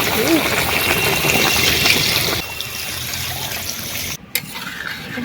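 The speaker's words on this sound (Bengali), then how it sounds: "এবার জল দিয়ে দিচ্ছি" Water pours into a pot of spiced, cooked-down meat in a village kitchen, a steady trickle that runs loud for a couple of seconds, then quieter bubbling and pouring continue. A voice talks over it.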